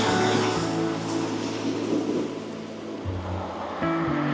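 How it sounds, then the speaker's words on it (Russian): Sea waves wash onto the shore at Yalta in a broad, steady rush of surf, with a low engine-like drone and hum running underneath throughout. "Да, волны разыгрываются,"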